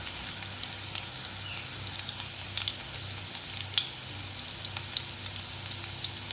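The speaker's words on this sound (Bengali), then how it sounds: "তো আমার 5 ফোড়নটা ভাজা হয়ে গেছে" Dense, even crackling sizzle of panch phoron five-spice seeds frying in hot oil, close and continuous with small sharp pops throughout and no talking.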